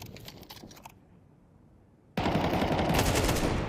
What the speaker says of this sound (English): but he'll get the headshot on Tessus anyway